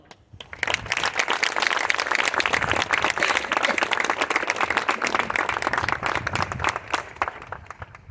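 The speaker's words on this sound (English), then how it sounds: "please give the Ford family a round of applause" Crowd at an early learning center groundbreaking ceremony applauding the Ford family, brisk clapping that rises quickly, holds strong for several seconds and then tapers off.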